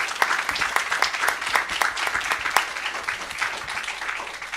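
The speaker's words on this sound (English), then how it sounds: "I think we owe all of our staff who submitted their profiles here a round of applause" Applause for school district staff at a board meeting: an audience claps steadily and fairly loudly, a dense patter that holds at an even level for several seconds with no voices over it.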